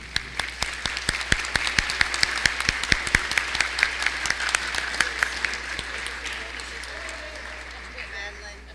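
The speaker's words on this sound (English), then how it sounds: "If you don't mind to give them a big round of applause." Audience applause for scholarship students at a high school senior awards day, crisp close claps over a steady crowd clatter that tapers off, with voices talking as it dies away.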